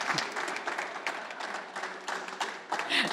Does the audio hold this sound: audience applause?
yes